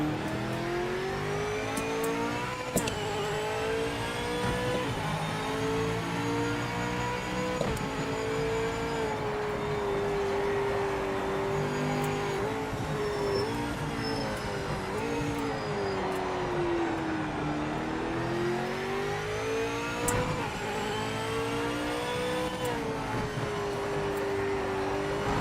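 Race car engine in the driving game Project Motor Racing, a loud, steady roar rising and falling in pitch through continuous revving and gear changes, close and sustained with no talk over it.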